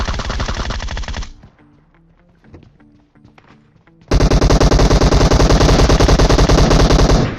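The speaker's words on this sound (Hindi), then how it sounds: "लेकिन तभी पीछे से फायरिंग आती है" Automatic gunfire in a battle royale video game, a loud close burst of rapid shots, a quieter gap with scattered distant pops, then a longer, very loud sustained volley of fast fire.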